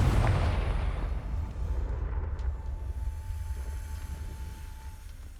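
A fiery Confringo spell detonates in Hogwarts Legacy with a loud, deep rumbling blast up front that rolls on and slowly fades over several seconds, with a faint thin tone lingering near the end.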